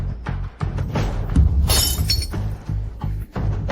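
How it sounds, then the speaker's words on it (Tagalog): A back door smashed open with a loud crash of shattering glass and breaking debris, close and forceful, with further impacts trailing off afterward. "nabasag na rin ang pintuan sa likod"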